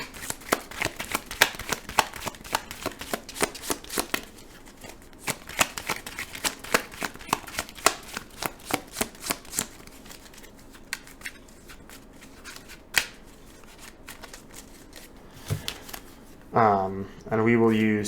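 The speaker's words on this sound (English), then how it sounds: "This now gets shuffled." A deck of playing cards is shuffled over and over in rapid riffling bursts, close and crisp, and a voice speaks briefly near the end.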